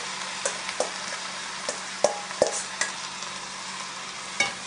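Onions and meat for a pot roast stirred around in a hot pan, with soft sizzling under a series of sharp scraping and clacking strokes of the utensil against the pan, heard without any talking.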